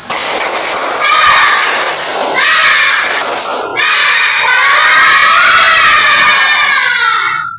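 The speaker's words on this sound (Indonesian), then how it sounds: "kita tepuk semangat terlebih dahulu" Classroom children shouting a clapping chant together, a loud, continuous chorus of young voices with shifting pitch that ends abruptly.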